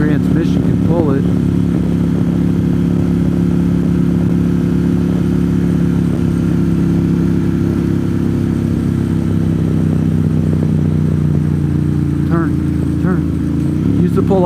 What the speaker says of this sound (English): This road's going as fast as this crappy CVT transmission can pull it.